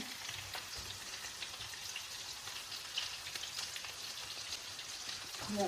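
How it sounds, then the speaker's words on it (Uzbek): Onion sliced into thin strips fries lightly in a pan with oil, a steady, fairly quiet crackling sizzle that continues evenly with no talking. "Endi piyozni solib ozroq qizartirib olaman."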